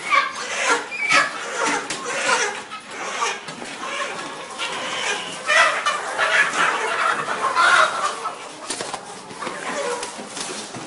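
Live chickens cluck and squawk continuously in a crowded halal poultry shop, a dense, busy chorus of birds close by with faint human voices underneath.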